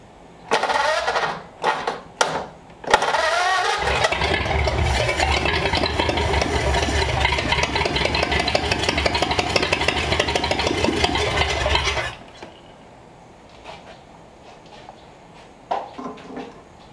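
A 1934 Ford Coupe engine running without its crossover pipe, a loud, raw, steady roar with clattering racket that holds for about nine seconds before cutting off, followed by quiet shop sounds.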